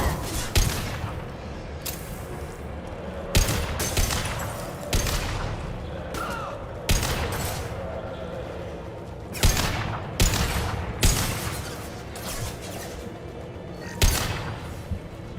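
Heavy weapons fire in Mass Effect 2 in loud, booming bursts and rattling volleys that recur every second or two across the stretch, with a voice faintly underneath.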